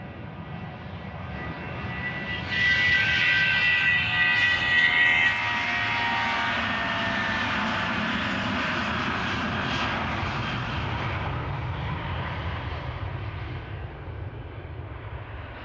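An airplane departing Amsterdam Schiphol Airport roars past close by, a loud broad engine rumble that swells after a couple of seconds and holds steady as it slowly fades.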